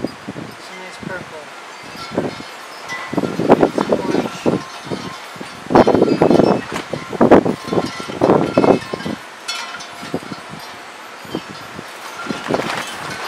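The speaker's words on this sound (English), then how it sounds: "Wow, that's windy." Gusty outdoor wind buffets a close microphone in uneven rumbling bursts, the loudest near the middle, with quieter rustling between gusts.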